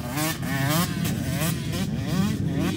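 A motorcycle revs hard and continuously during sand-track practice, its engine note wavering up and down in repeated surges, loud and close for the whole stretch.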